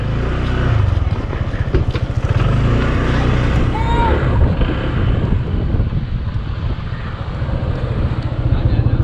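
A motorcycle engine runs steadily near Taal Lake in Cuenca, Batangas, its low rumbling drone loud and close throughout with wind buffeting the microphone, while people talk over it.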